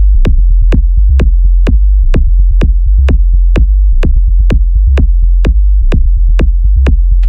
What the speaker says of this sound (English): a nice rumbling low-end sub bass with that kick popping through